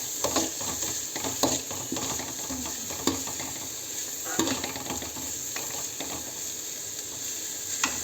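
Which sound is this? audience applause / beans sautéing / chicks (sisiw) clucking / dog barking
beans sautéing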